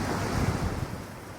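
Ocean waves wash steadily along the bayfront in Lahaina, Maui, a continuous broadband surf roar with wind buffeting the microphone, no voices.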